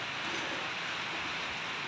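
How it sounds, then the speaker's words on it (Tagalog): Steady rain pouring outdoors in a downpour that has not let up, an even hiss of falling water with no voices, moderately quiet and continuous throughout. "Wala pa rin tigil yung ulan"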